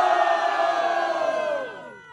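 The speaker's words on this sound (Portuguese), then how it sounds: "barulho pra quem curtiu as rimas de Breno" A large crowd at a rap battle final roars and whoops in a loud burst of cheering that gradually fades toward the end.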